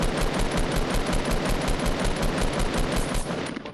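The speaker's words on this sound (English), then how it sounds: "Where did that shot come from?" Rapid, continuous automatic gunfire in a Fortnite Battle Royale match, loud and sustained for several seconds with no pause, tapering slightly at the end.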